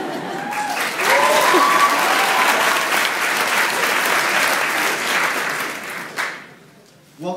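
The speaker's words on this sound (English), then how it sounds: "welcoming each and every one of you to clap after every single thing that I say" Loud audience applause fills a hall during a 2012 valedictorian's graduation speech, swelling quickly and holding steady before tapering off, then a brief burst near the end.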